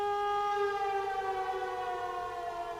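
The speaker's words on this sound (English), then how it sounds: "The conversation in the beginning constantly gets interrupted by random war sirens." A war siren in a film wails steadily in a long sustained tone, loud and continuous throughout with no voices.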